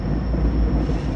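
A train rumbles along a railroad beside the narrowing Yaquina River in Oregon, a low steady roar heard close with no voices.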